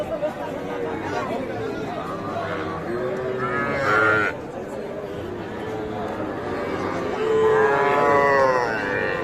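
Sahiwal heifer calves mooing at a busy cattle market, several drawn-out moos rising near and loud over steady crowd chatter and talk.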